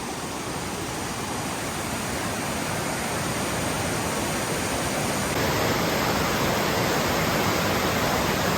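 Loud, steady roar of fast-moving floodwater in an Arizona creek, a dense continuous rush that fills the whole clip without letup.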